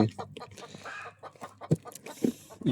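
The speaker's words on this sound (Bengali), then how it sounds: "ডাকছে কেমন দেখো মুরগিগুলো, ওই যে চলে যাচ্ছে আর ডাকছে।" Two roosters and a hen by a field pond cluck in short, uneven bursts, fairly close and moderately loud, with some faint voice-like sound mixed in.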